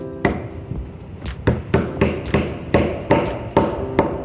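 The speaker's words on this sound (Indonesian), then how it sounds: "jepit mata ketam dengan penjepit kayu atau pasak dan kencangkan dengan memukulnya" A wooden wedge is hammered to tighten the blade of a traditional hand plane, about a dozen sharp, fairly evenly spaced knocks close by, with no talk.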